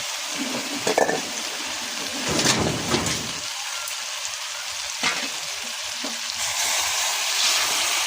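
Hot water goes into a pot of braised beef, setting off a loud continuous sizzle that swells into a louder hissing burst partway through, with faint clinks.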